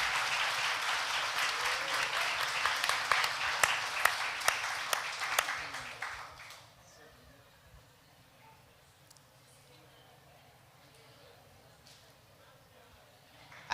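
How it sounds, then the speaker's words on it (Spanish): Applause from an audience at a church event, loud steady clapping for about six seconds that fades out, followed by quiet room tone. "Con un aplauso. fuerte aplauso."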